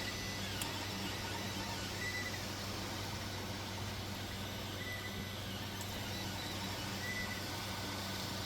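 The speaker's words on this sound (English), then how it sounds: "It's been printing for a while." An Ender 3 Pro 3D printer runs a print job, giving off a steady, unbroken whir and hum at moderate volume with faint, occasional high chirps from the moving parts.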